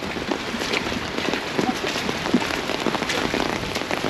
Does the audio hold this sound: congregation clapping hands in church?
no